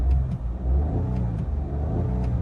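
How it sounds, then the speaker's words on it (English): A 2008 Smart ForTwo 1.0 three-cylinder engine revs briefly in a few quick throttle blips, a close, slightly uneven mid-range drone with no talk over it. "You can probably hear the 3-cylinder engine."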